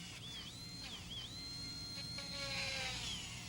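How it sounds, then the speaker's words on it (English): A number 6 round carbide burr in a dental handpiece drills holes in a tray with a thin, high, continuous whine that dips and bends in pitch, over a steady low hum, close up. "This is a number 6 round burr carbide, and I'll use it to place a few holes in our tray."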